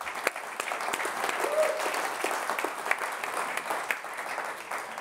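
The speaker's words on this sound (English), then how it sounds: "big round of applause for Hermann, please" Steady, dense applause from a large conference audience welcoming a speaker onto the stage, a continuous wash of many clapping hands at moderate level with no pause throughout.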